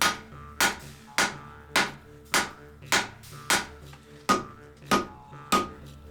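A hammer strikes a hot forge-welded, multi-layer steel bar to draw it out for a scouting knife, about ten sharp metallic blows in a steady rhythm roughly every half second, close and clear.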